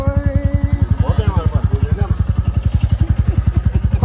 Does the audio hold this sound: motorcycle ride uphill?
yes